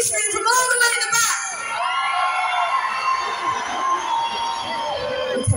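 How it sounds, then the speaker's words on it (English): A huge outdoor concert crowd at the Blackpool Illuminations switch-on screams and cheers loudly and continuously, a dense roar of voices and whoops rising sharply at the start and holding steady throughout. "I want to hear you scream from all the way in the back."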